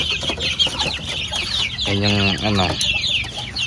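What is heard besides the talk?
caged native chickens clucking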